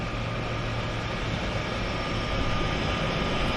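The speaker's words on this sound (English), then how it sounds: "So that's down, and now we have our turbo departure." A de Havilland DHC-3T turbine Otter floatplane takes off from a harbour, its engine a loud, constant, close roar with a steady whine over it and no talking.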